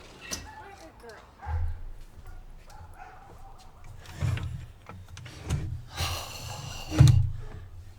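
Boxer dogs bark, yip and whimper in a backyard in scattered short bursts, with a louder bark near the end, while people talk nearby.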